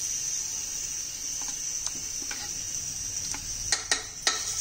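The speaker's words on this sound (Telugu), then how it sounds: "ఇప్పుడు దీనికి పోపు పెట్టుకున్నాం" Tempering (popu) hits a pot of tamarind-seasoned green gram dal, giving a steady bright hiss with scattered crackles and a few sharp pops near the end.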